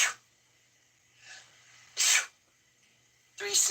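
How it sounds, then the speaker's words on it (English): Three sneezes, close and forceful, each a sharp hissing burst separated by short quiet pauses. "3 sneezes."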